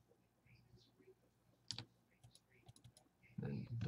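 Computer keyboard keys and a mouse clicked in quick, soft bursts, faint and close, with a few separate clicks and a louder clatter at the end.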